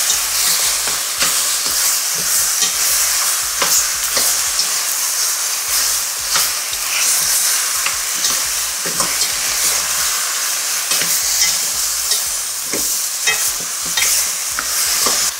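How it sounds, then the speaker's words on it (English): Oxtail sears in a hot pot for a Caribbean stew, a loud continuous sizzle with repeated clatters and scrapes as the pieces are tossed and turned. "in with the oxtail. I'm going to toss it around and make sure all the pieces get a nice coating."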